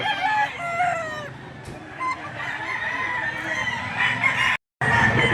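Several roosters crow one after another at a chicken market, with hens clucking and a busy crowd of birds around; close and fairly loud.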